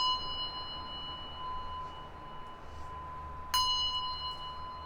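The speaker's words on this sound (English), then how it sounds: "get our trusty bell here" A handheld bell rung once during a card reading, a single bright ding that rings out and slowly fades over a quiet background with a faint steady tone.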